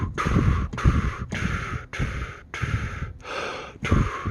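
Breathy bursts of air blown through a band instrument while the notes are fingered, producing no pitched tone, just seven or so rhythmic airy puffs with short gaps, close and alone.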